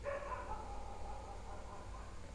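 A dog barks off in the background indoors, its barks muffled and fairly distant beneath a steady hum of room noise, with no talking in this stretch.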